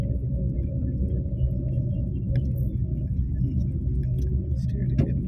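A car's engine drones steadily through a driving lesson, shifting between gears and picking up speed, with a continuous low rumble throughout and a person speaking faintly over it.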